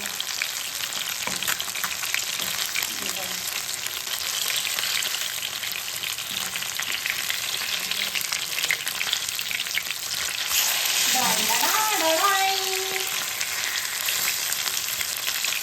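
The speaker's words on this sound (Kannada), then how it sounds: "ನನ್ನ ಮೀನು ಹೇಗೆ ಫ್ರೈ ಆಗ್ತಿದೆ ನೋಡಿ ನೋಡಿ" Fish frying in oil in a pan, a steady loud sizzle throughout with brief scraping and clinking near the end as the pieces are moved apart.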